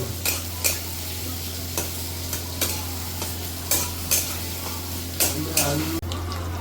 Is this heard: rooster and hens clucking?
no